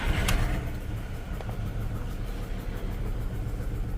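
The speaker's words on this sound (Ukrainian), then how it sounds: "Давайте запускати двигун." A Skoda Fabia engine with a misfire catches with a brief crank and settles into a steady, low rumbling idle.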